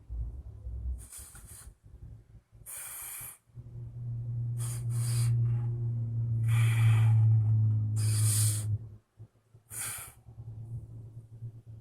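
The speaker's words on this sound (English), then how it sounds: "take 3 deep breaths in and 3 out" A person takes slow, deep breaths in and out through the nostrils, several long airy inhales and exhales separated by brief pauses, close and fairly quiet with no talk.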